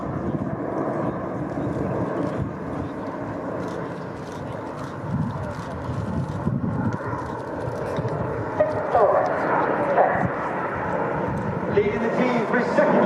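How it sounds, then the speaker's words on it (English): Red Arrows RAF jets performing a flying display at RIAT 2025, slowing and twisting right in formation, a steady loud roar of jet engines throughout with a commentator's voice running over it. "the aircraft now slows down as Red One brings them back down and twists them around to the right"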